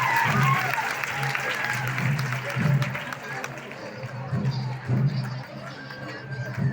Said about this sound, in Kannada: ಜೋರಾದ ಚಪ್ಪಾಳೆ ತಮ್ಮೆಲ್ಲರೂ.